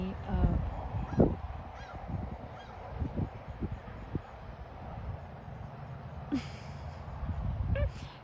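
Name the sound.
ducks calling outdoors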